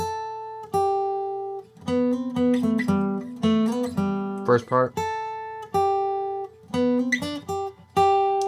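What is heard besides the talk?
guitar solo played slowly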